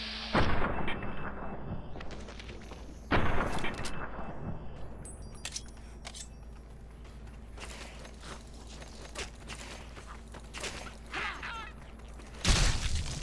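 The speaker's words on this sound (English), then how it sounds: "Let's go ahead and just get some torso shots off." Gunfire and blasts in the video game Fallout New Vegas on Hardcore mode, several loud sharp shots and booms spaced out over rumbling ambient game sound.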